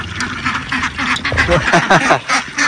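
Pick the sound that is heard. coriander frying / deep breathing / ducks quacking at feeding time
ducks quacking at feeding time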